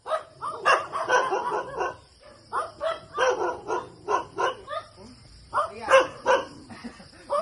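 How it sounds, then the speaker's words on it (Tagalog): A dog barks repeatedly in short bursts nearby, mixed with people talking over it. "ang aso"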